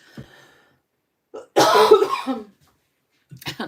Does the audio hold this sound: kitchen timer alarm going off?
no